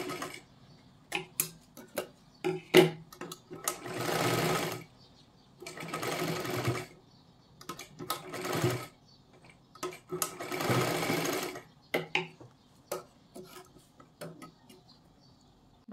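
A sewing machine stitches a blouse in short bursts of a second or two, separated by pauses filled with small clicks and ticks of handling, fairly close and moderately loud.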